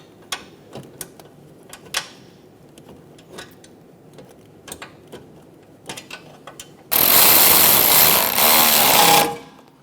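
A ratchet snugging down the base bolts of a rear engine mount on a 2003-2007 Honda Accord 3.0L V6, heard as a run of sharp clicks followed by a loud, steady burst near the end.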